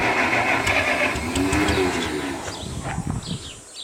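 Massey Ferguson 65 tractor engine running loud and close with a rough, uneven idle and a suspect carburetor, a steady throbbing drone that wavers and sputters toward the end.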